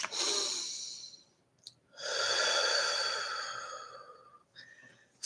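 Slow, deep breaths during a quiet meditation: a long audible exhale, a pause, then a longer drawn-out breath and the start of another, close and soft with no talking.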